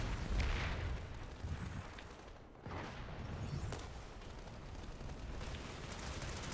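Rapid gunfire and booming blasts from a Planetside 2 battle, dense and continuous at close range, with explosions swelling and dipping over several seconds.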